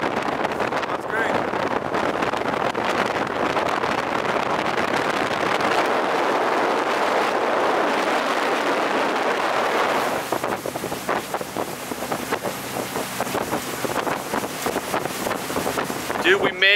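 Strong wind buffets the microphone on top of a boat heading to San Pedro, Belize, with a steady rushing roar and engine-like rumble, and voices talking now and then.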